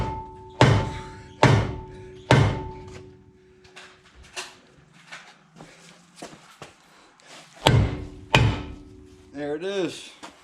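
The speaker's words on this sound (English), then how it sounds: "give this thing a few whacks, and we should be able to pop that thing right off" Rubber dead blow hammer whacking a rusted brake rotor on a 2004-2015 Nissan Titan: five heavy, ringing thuds in two groups, close and loud, with quieter clanks and shuffling between them and a brief voice near the end.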